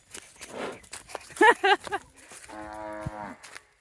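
A charging bull moos loudly nearby in two short bursts, followed by a longer drawn-out low moo, with brief human voices around it.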